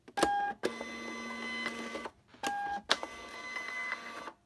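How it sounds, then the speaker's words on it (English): A label printer prints shipping labels for packed eBay orders, giving several close, steady bursts of mechanical whirring and buzzing separated by short pauses, with no talking. "I just click print on these and the label printer will spew out the labels"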